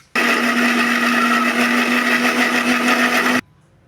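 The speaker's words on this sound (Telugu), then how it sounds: "ఇప్పుడు మిక్సీ వేసేసుకుందాం" A mixer grinder blending onion and tomato into a paste whirs loudly and steadily for about three seconds, then cuts off abruptly, leaving near silence.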